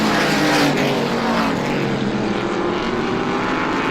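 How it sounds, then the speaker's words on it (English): A Saravallo Auto number 16 race car runs down the back straightaway at Star Speedway in New Hampshire, its engine a loud, steady roar that holds without a break. "Wheeling the Saravallo Auto 16 car down the back straightaway."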